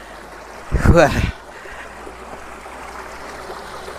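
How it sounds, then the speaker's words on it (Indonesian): River water flows slowly outdoors, a gentle, faint continuous trickle and wash heard after a brief spoken exclamation near the start. "air sungai yang mengalir ini pelan-pelan"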